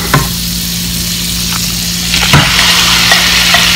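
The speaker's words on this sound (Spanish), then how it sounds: "Vamos a freír y vamos a salpimentar. Vamos a dejar que se fría ligeramente." Pork frying in melted butter in a hot pan, a steady broadband sizzle running throughout with a few brief crackles and spatters, close and fairly loud.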